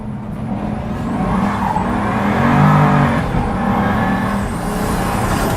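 A Pagani supercar engine roars continuously on a twisty road, its turbos building with a steady rising swell that peaks midway and then eases slightly, loud and close with no talking.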